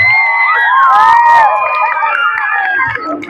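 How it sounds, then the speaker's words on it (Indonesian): A junior high school audience at an Isra Mi'raj and Ramadan welcome lecture erupts in loud, close cheering and excited shouting, with a brief burst of claps partway through. "Hebat, tepuk tangan."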